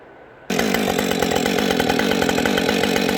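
Chainsaw cutting firewood to length, starting abruptly after a quiet moment and then running loud and steady at full throttle through the cut, close by with no talking.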